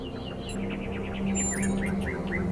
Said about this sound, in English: Do you hear the birds chirping outside the door?